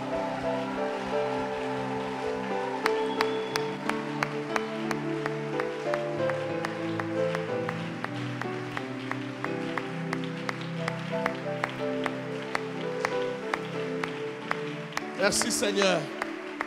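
A church congregation claps and acclaims Jesus during worship, sharp hand claps in a fairly regular rhythm under singing and voices, with a brief burst of louder cheering near the end.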